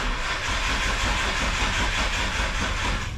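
A Nissan R33 GTR engine being cranked with the key on a weak, nearly dead battery: a loud, steady churning rumble with a rapid pulsing rhythm, close by and uninterrupted.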